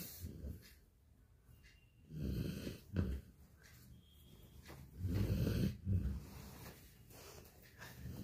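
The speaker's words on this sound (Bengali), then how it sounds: "সর্দিতে এত জোরে নাক ডাকছিস?" A dog with a blocked nose snoring loudly, slow rough snorting breaths rising and falling in a few long swells, close and alone with no talking.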